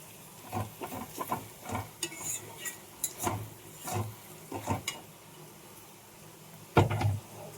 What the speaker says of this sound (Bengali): দিয়ে ভালো করে নেড়ে নেবো